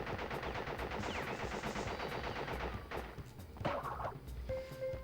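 Rapid automatic gunfire from an enemy soldier in a video game, dense bursts of shots filling the scene with clattering reports and crashes, loud and continuous with a brief tonal game cue near the end.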